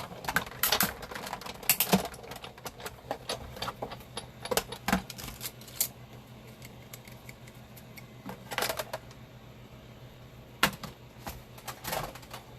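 Scissors snipping stamped paper peony flowers for a card craft, quiet irregular clicks and crisp cuts scattered across a calm indoor room.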